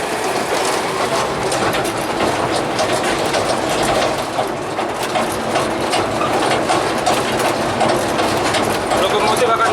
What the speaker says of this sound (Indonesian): Kita naik lagi ya untuk melihat lokomotif ini memutar